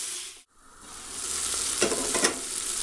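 Garlic and hot chili peppers sizzle in a pan as they are stirred around, a steady, bright frying hiss with a brief dip near the start and scraping stirs swelling partway through.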